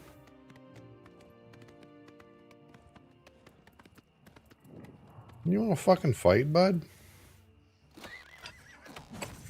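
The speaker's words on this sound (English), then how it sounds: "Leave my fucking horse alone." Horse in the video game Oblivion giving a loud, close neigh with a wavering whinny, preceded by light hoof clip-clops, while someone speaks over the quieter parts.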